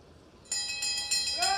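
A bell rung repeatedly for the final lap at a masters world championship track cycling race in an indoor velodrome, bright clangs that start suddenly and keep pulsing loudly over arena noise.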